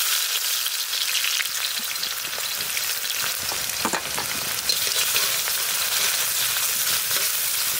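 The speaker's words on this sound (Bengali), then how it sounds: "তেল গরম হয়ে গেছে, দিয়ে দেবো পেঁয়াজ।" Onion fries in hot mustard oil in a pan, giving a continuous bright sizzle with crackles and occasional stirring scrapes, close and steady without any talking.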